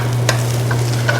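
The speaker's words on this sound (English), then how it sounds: "We've got barley going on the stove right here." Barley cooking in a pot on the stove, giving a steady close simmering hum with a faint bubbling hiss and a couple of soft clinks.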